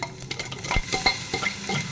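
A ground garlic and green chili paste sizzling and spattering in hot oil while being stirred, with sharp scraping of a spoon against the pan.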